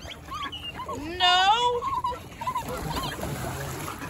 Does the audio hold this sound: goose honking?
yes